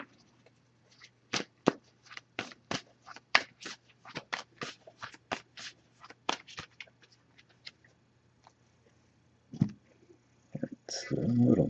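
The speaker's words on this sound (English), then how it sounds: "So just going to give this a few shuffles." A Wisdom of Oracle card deck gets shuffled: a quick run of about twenty crisp riffling snaps in an irregular rhythm, close and quiet in an otherwise still room, then a few louder handling rustles.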